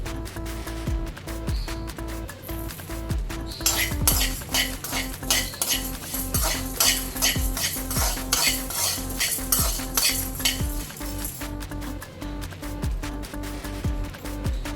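Cumin and coriander seeds fry in a pan while a metal spoon stirs and scrapes steadily, with repeated sharp clinks and scrapes over a low background sizzle and a faint tonal hum.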